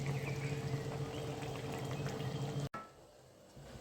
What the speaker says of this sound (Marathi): आपण पुन्हा 1 वाटी पाणी दुसऱ्या बाजूला गरम करून ठेवले होते, आता आपण ते त्यामध्ये ॲड करून घेणार आहोत